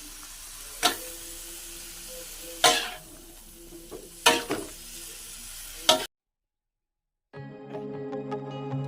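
Jackfruit and chili stir-fry in a pan, giving a steady close sizzle broken by several sharp spatula scrapes and knocks. A short silent gap follows, then the frying resumes.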